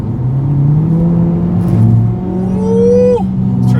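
A 2020 Mercedes-AMG CLA 45 with 380 horsepower and all-wheel drive, in manual mode, accelerating hard from inside the cabin, engine note climbing loudly through a gear with a brief dip at the shift.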